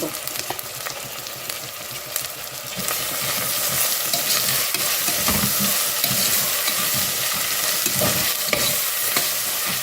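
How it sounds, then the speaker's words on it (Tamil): Ginger garlic paste and chopped tomatoes sautéing in a pan, a steady loud sizzle and crackle with occasional stirring scrapes, close and continuous throughout. "இப்போ நல்லா வதங்கட்டும் பச்சை வாடை போகிற அளவுக்கு வதங்கட்டும்"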